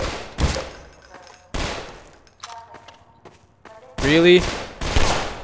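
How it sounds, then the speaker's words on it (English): Gunfire in the video game Half-Life 2 comes in loud, sharp bursts: one near the start, another around one and a half seconds, then a heavier cluster late on, with a quieter game stretch between and a brief spoken remark. "Where am I being shot from?"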